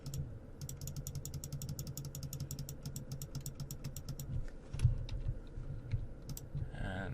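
A computer mouse clicking during digital grass modelling work, with quick, crisp clicks in rapid bursts close up over a low, steady background hum, no talking.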